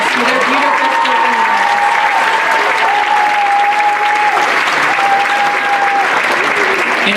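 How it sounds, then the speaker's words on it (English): Sustained audience applause for spoken word poetry performers at an Arab Xpressions 2018 evening show, a steady wash of clapping with a few whoops and cheers over it, loud and continuous throughout. "Please give another round of applause for our artists for their beautiful spoken"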